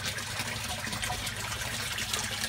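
Water pouring steadily from a pond pump's overflow waterfall into an in-ground IBC tank reservoir for a tilapia aquaponics setup, a constant close splashing trickle with no voices.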